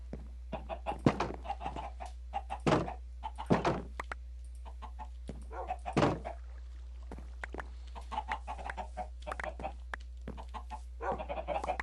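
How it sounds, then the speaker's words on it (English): Chickens cluck in scattered bursts in the video game Minecraft over a steady low hum, with a voice speaking at times. "Oh, my chickens are messy."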